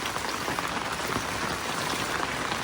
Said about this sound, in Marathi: पाऊस पण आलाय तसा